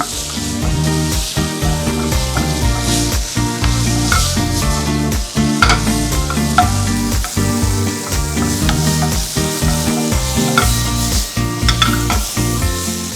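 Long beans with minced pork and chili stir-fried in a hot pan, a loud, steady sizzle broken by frequent scraping stir strokes, close and continuous with no talking.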